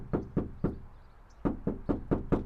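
Knuckles rap on the rear liftgate of a Toyota Land Cruiser fitted with Dynamat sound deadening, in two quick groups of dull, close knocks: three evenly spaced raps, a pause, then five more.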